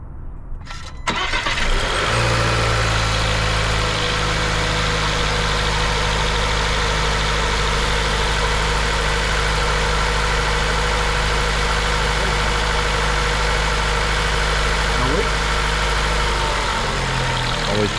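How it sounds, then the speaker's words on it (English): Land Rover Defender 2.0 turbo engine cranking and catching just after an oil change, then settling into a steady, close idle for over fifteen seconds before a faint change at the end. "Fire it up, Michael."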